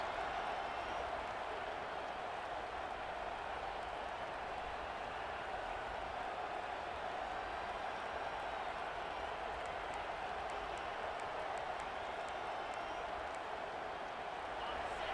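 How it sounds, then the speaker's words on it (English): A steady roar of a large stadium crowd in a college football video game, dense and continuous, with cheering and faint clapping blended into the constant noise. "This crowd bringing the energy and noise early."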